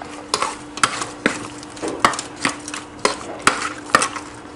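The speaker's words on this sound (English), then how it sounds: "I'll give that a good mix." Turmeric is stirred into raw shrimp in a bowl: a close, regular rhythm of utensil scrapes and clicks roughly twice a second, with a soft wet mixing sound between strokes.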